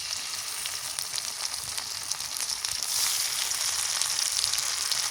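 Chili paste sizzles and fries in hot oil in a pan, a close, continuous crackling hiss that swells slightly louder partway through.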